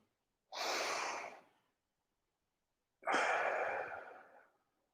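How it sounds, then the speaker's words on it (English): Two slow, deep breaths during a guided meditation, each a soft, close airy rush lasting about a second with a pause between, heard alone without talk. "Breathe in."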